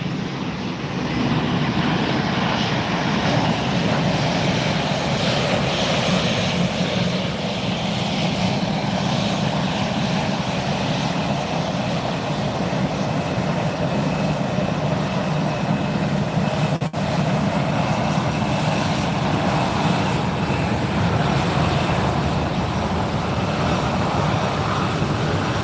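Steady, loud roar of a DC-3's twin piston propeller engines with bright red cowlings at Fort Lauderdale airport during takeoff, a continuous droning rumble that holds at constant strength throughout.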